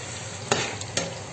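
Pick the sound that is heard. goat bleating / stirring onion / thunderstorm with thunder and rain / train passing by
stirring onion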